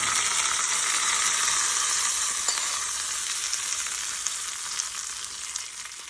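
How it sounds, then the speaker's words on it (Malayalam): Chillies frying in hot oil for bitter gourd kichadi, a steady loud sizzle that gradually eases, with no talking. "മുളകും കൂടി വറുത്തത് നോക്കുക"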